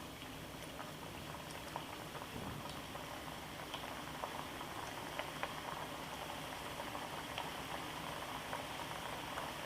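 Namkeen snack dough frying in hot oil over a lowered gas flame, a dense continuous bubbling fizz with scattered tiny pops and crackles, steady and close throughout.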